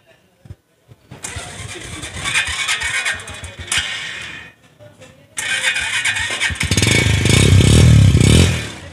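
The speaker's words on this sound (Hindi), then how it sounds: "स्कूटी बाइक हुई स्टार्ट" A Japanese scooter, such as a Suzuki Lets or Yamaha Jog, fired up with its electric self-start button: a brief starter whir, then the small engine catching and idling louder nearby, with a pause between attempts.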